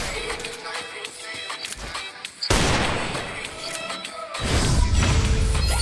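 Gunfire bursts crack through a Free Fire match, with sharp shots, crashes and thuds in uneven clusters, growing denser and louder toward the end.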